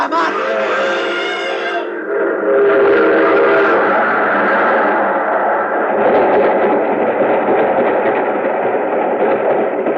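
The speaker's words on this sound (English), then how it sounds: "There's a train coming." A train passes in an old radio drama. A loud whistle blast leads into a heavy, steady rumble that stays close and loud to the end.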